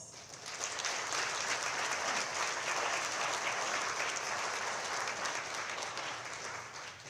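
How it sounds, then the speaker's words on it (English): A banquet crowd at Taiwan's Ministry of Foreign Affairs gala applauds the ministry's staff, a sustained, dense roar of clapping that swells quickly and holds evenly for several seconds from a large room. "applause."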